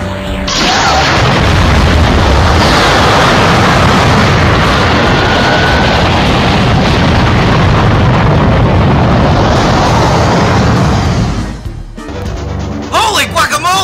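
An animated Breaker Beam energy blast erupts as a huge, sustained explosive roar lasting about eleven seconds, loud and dense, then cuts off into brief crackling debris.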